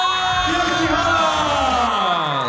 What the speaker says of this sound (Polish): Brawa wielkie!